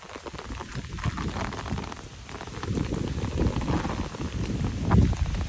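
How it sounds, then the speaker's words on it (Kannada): Heavy rain pours steadily on a hillside path in Tulunadu, a dense, loud, continuous hiss with gusty low rumbles and no voices. "ಮಳೆ ಜೋರು ಬರ್ತಾ ಇದೆ"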